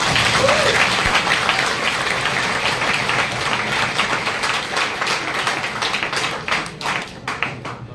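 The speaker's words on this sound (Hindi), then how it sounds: "मैं ज़्यादा समय ना लेते हुए उन्हें आमंत्रित करता हूँ, जोरदार तालियों के साथ।" Loud, dense audience applause welcoming a speaker at a college orientation event, continuous clapping from a large crowd that thins slightly toward the end.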